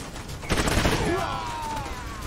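Gunfire from the tactical video game Troubleshooter: a loud burst of shots with a ringing, fading tail, heard over continuous game background noise.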